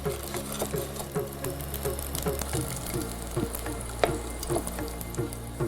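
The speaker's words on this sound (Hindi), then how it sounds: "तेल गरम होते ही इसमें मैं डालूंगा लहसुन की कुछ कलियां हैं और इनको हम ब्राउन कर लेंगे" Garlic cloves fry in hot oil over low heat, giving a faint, steady sizzle with scattered soft pops and crackles and light clinks, no speech.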